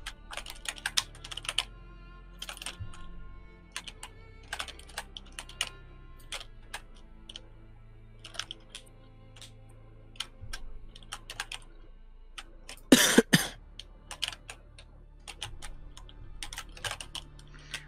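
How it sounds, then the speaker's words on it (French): Typing on a computer keyboard during a For Honor gaming session, a quiet run of irregular key clicks with a brief louder burst of clatter partway through and a faint steady background hum. "Attends, un beau clavier, je me demande lequel"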